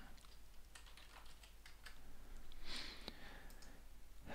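Steady bursts of typing on a computer keyboard, quick close clicks entering text into email automation software, with no talk over them.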